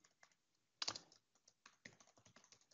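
Quiet typing on a computer keyboard, a light irregular patter of keystrokes with one louder clack near the start, close and alone.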